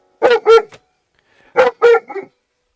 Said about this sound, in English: I know you like barking at the neighbors